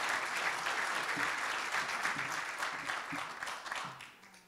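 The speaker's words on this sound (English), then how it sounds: "Please let's give him a round of applause." An audience at a city chamber event in Hagerstown applauds the mayor with steady, dense clapping that fades out near the end.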